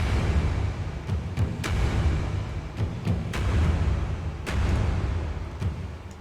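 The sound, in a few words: big taiko drums from Native Instruments Action Strikes, saturated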